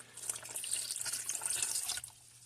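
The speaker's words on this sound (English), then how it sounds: "we're going to come in with 2 cups of warm water" Two cups of warm water poured into Knödel potato dumpling mix, a close, steady, hissing stream lasting about two seconds before stopping abruptly.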